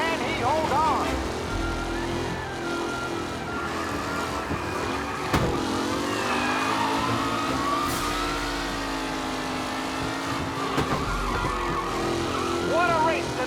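Race cars roar and rev through a race in Mafia: Definitive Edition, engine drones rising and falling steadily beneath near-continuous commentary talk with a background bed of music.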